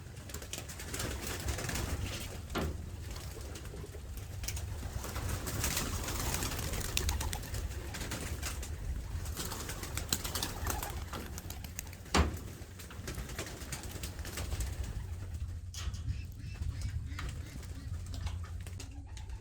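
Pigeons at a flyers loft coo repeatedly and softly throughout, with other bird calls and faint outdoor background noise.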